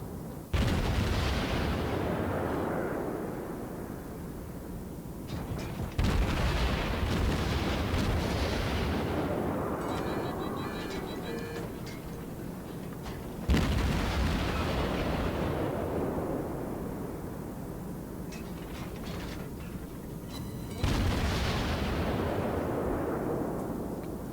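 Heavy naval gunfire from a warship video game: four big booming salvos land roughly six to seven seconds apart, each followed by a long rumbling decay with crackling and clattering debris, and no voices.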